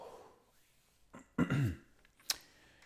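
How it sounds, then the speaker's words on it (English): A single person coughs and clears their throat close to the microphone during a chess session in a quiet room, two short bursts, the second a sharp cough. "Wish I would stop coughing."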